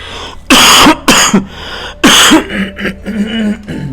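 Three harsh coughs in quick succession from a man recovering from pharyngitis, loud and close, followed by a faint throaty murmur.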